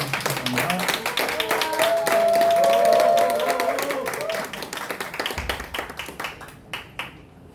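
An audience at a book talk event welcomes an author and a pastor with warm applause: steady clapping from a crowd that gradually thins, with music playing underneath and voices mixed in.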